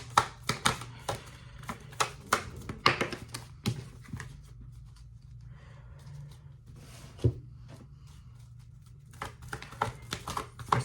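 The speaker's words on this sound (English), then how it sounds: "let me pull some oracle cards" Oracle cards shuffled and pulled from the deck: a run of crisp, rapid card flicks and taps up close, easing to quiet rustle midway before a few more snaps near the end, with no talking.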